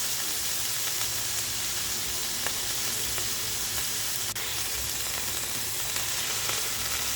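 Chicken breast frying in a pan with garlic and onion, a steady close sizzle and hiss that holds at an even level from start to finish, with faint occasional stirring clicks and no talking.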